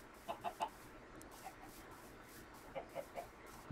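Chickens in a breeding pen in Minecraft cluck in short bursts, a quick cluster of three clucks early on, then a lone cluck and another group of three later, moderately near over a quiet background.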